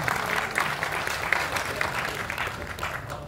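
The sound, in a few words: applause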